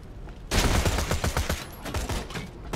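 Rapid shotgun blasts from a midget enemy in the video game Borderlands 2, a close burst of repeated booming shots in quick succession.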